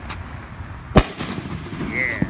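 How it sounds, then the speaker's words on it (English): A cheap Roman candle fires outdoors with a sharp, loud pop near the middle, followed by a faint whistle and a smaller crack, over steady background noise. "Try another Roman candle."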